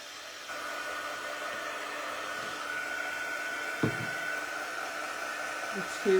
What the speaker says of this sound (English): I had to grab the dryer.